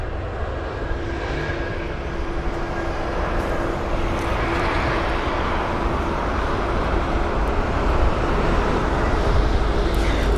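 An airliner arriving to land at London Heathrow on a windy day, a loud continuous jet roar building slightly over ten seconds, heard alone against wind and distant traffic.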